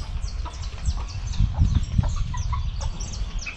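Farm hens clucking at a country smallholding, repeated short clucks close by over steady low background rumble, with no talk.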